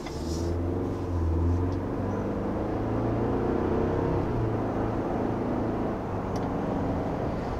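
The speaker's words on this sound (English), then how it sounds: "you can hear some wind noise coming on in the back" Steady road and wind rush inside a 2021 Ford Bronco while driving, a constant low rumble with broadband hiss filling the cabin evenly throughout, no voices.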